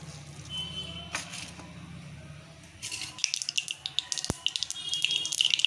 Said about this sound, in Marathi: मोहरी तडतडली.